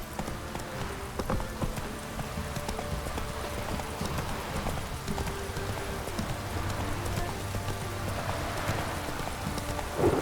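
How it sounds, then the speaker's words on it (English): Horse hooves galloping in the Witcher 3: Wild Hunt video game, a rapid steady clip-clop rhythm that runs throughout alongside a constant rain-like hiss, no talking. "Run, Roach"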